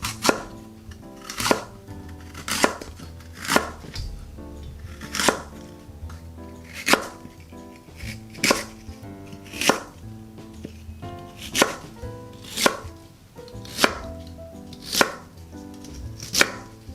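A knife slices lotus root into 0.5 cm rounds on a cutting board, giving sharp, evenly spaced cuts about once a second, close and distinct, with no talking.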